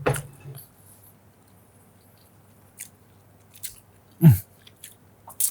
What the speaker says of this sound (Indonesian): Kita coba gigit ya.